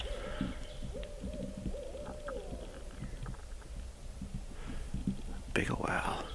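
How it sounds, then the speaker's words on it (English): Big owl hooting in winter woods during an Illinois squirrel hunt, a series of soft, low, repeated hoots in the distance beneath quiet whispered talk. "Big ol' owl."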